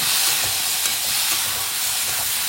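A steady, loud frying hiss fills the whole stretch with no gaps as chickpeas fry in a pan in a home kitchen, and no talking is heard.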